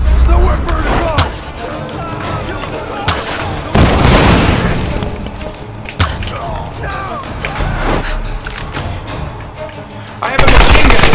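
Machine gun fire in Tomb Raider Definitive Edition, loud repeated bursts and booms mixed with game voices and talking over the shooting.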